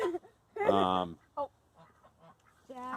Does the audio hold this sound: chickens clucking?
yes